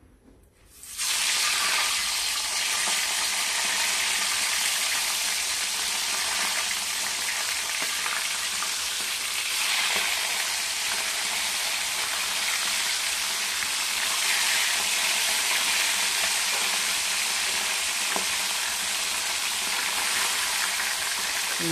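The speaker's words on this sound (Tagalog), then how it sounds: "may pinakulo na akong mantika. Yan, ako na lang magluto" Food fries in pre-boiled cooking oil. After a brief quiet start, a loud, dense, steady sizzle and crackle begins and continues unbroken for about twenty seconds.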